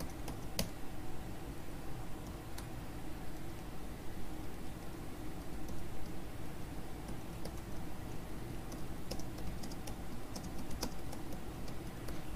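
Steady, quiet clatter of computer keyboard keys as code is typed, continuous soft clicking with occasional sharper taps over faint background hiss.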